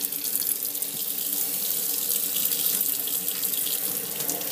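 Hot water running from a tap into a sink for dipping a color-changing Matchbox toy car, a steady close hiss of flowing water that continues evenly throughout with no speech.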